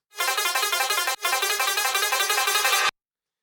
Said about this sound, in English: there is an additional little ARP motif that you could hear